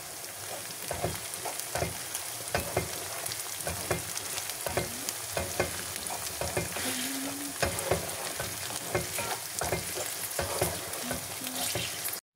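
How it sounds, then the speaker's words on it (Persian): Onions and dried mint sizzle and fry in a pan while a spoon scrapes and stirs steadily in quick, repeated strokes. "پیازمون آماده سرخ شدنه"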